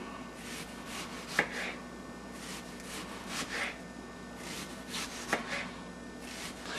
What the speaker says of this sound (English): we're going to cut this into onion rings